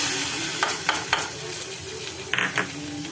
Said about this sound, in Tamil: தாளிச்சதை சாம்பாரில் கொட்டிக்கலாம்